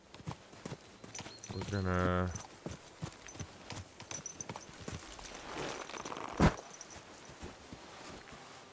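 Hooves clip-clop beside a horse in a medieval fighting video game, an irregular run of close clopping steps with a whinny-like tone early on, under someone talking.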